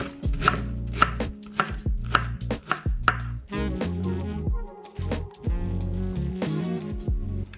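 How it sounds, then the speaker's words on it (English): Sharp knife chopping salmon on a board in a home kitchen, a fast run of crisp, close knocks at first, then steadier bursts of cutting with a few sharp strikes, no talk. "just gonna chop this up"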